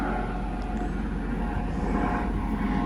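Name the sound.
Coast Guard helicopter flying over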